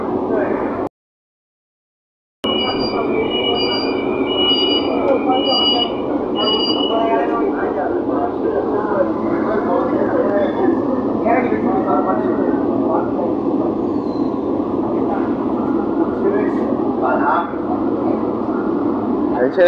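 A Kolkata Purple Line metro train pulls out of a station, a steady loud low rumble and hum of the carriage with short high electronic tones near the start, heard from inside.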